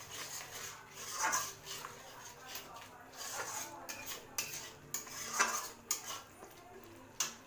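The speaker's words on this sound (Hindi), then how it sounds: "मसाले को अच्छे से मैं मिला लूंगी।" A spoon stirs and mixes spices into a fried paste in a pan for a prawn and parwal curry, giving faint, irregular scraping clinks of metal on metal in a quiet kitchen.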